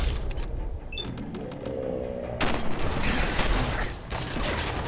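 Combat pistol gunfire in the Fallout 4 video game: a rapid, dense series of close shots crackling over mechanical creaks and game noise, continuing in bursts after a brief lull.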